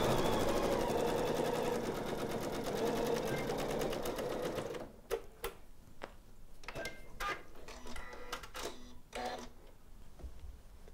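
A Janome sewing machine runs a fast, even stitch along the last edge seam for about five seconds, loud and close, then stops, leaving sharp handling clicks and light taps.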